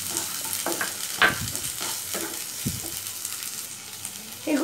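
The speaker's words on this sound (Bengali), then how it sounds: "এগুলো ততক্ষণ ভাজা ভাজা হতে থাক" Chopped tomatoes frying in a pan with ginger-garlic paste for a mustard and poppy seed pomfret curry, giving a steady soft sizzle with a few louder stirring scrapes and clatters, no talk.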